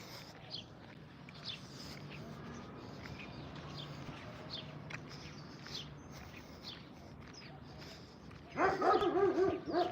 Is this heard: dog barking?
yes